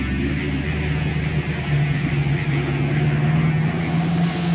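A Pontiac WS6 car with a T56 Magnum manual transmission swap, engine droning steadily and loudly from inside the cabin with a sustained low hum and a faint high whine over it.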